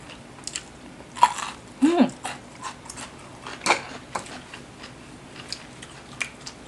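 Crunchy bites and chewing of crispy pork eaten with spicy papaya salad, a few loud close crunches near the start and middle followed by softer scattered chewing clicks, with faint background talk.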